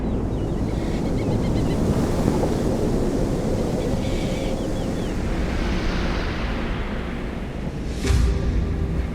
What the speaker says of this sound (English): on one side of the peninsula, the surf pounded the shoreline